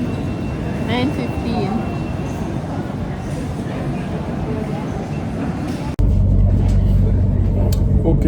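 A train at a London railway platform gives a broad, steady rumble under people talking, swelling into a louder, heavier low roar for the final two seconds.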